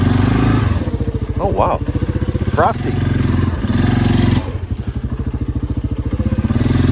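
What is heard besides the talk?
Yamaha Big Bear ATV engine running and idling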